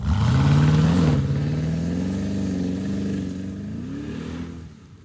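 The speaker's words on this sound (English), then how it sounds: "And with it being the V8," A Porsche Cayenne Turbo 4.8 V8 revs loudly nearby, its deep engine note rising and holding steady with wavering pitch before easing off at the end, with no talk over it.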